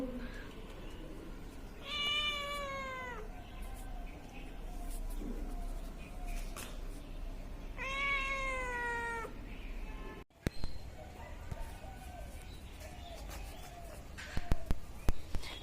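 A pet cat gives two clear, drawn-out meows several seconds apart, close and prominent over quiet room noise, followed by a sharp handling thump and scattered clicks near the end.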